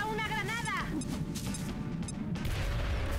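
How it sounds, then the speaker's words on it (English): A grenade blast in the strategy game XCOM Long War, a brief game explosion with a crashing burst mixed among other in-game effects and someone talking over it. "I think I can reach them with a grenade from here."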